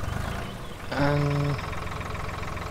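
A tractor engine in Farming Simulator cranks, then catches into a steady low idle that holds under a background hum for the rest of the moment, with one short word spoken.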